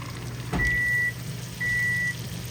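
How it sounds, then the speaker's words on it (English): Two long steady electronic beeps from a microwave cooking baked potatoes, each about half a second, separated by a pause, clear over a low background hum. "And that's the microwave for our baked potatoes."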